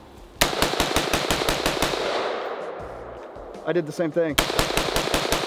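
Rifle fitted with a muzzle brake fired at an outdoor range, loud sharp shots in rapid, evenly spaced bursts, a quieter gap with someone talking briefly, then another quick string of shots.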